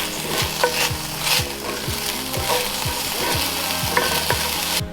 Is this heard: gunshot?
no